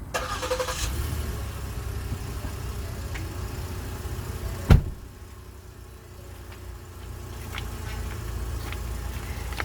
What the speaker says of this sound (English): I'm about to start the car with the accessory lights on.